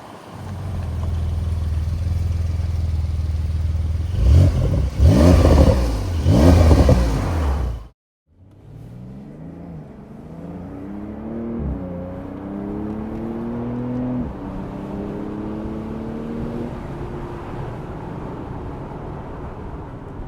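A Porsche 911 Carrera S of the 992.1 generation roars loudly and revs hard while driven, then after a brief drop comes back quieter, climbing repeatedly through gears with rising engine pitch.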